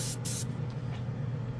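Budget airbrush spraying enamel paint, a short sharp hiss in two quick bursts, close and loud, then trailing off into a quiet room tone.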